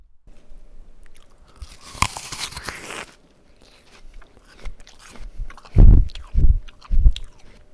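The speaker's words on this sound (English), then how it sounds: "I'll cut in some audio of me eating an apple" Someone bites into an apple and chews it up close: crisp crunching bites followed by wet, rhythmic chewing that gets louder toward the end, with no talking.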